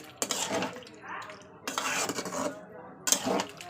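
Prawns being sautéed with raw cumin paste in a pan for a Bengali chingri macher jhol, with clattering spoon-against-pan scraping in three bursts and a soft sizzle between them; no talk.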